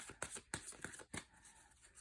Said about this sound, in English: I let them kind of fall out as I'm shuffling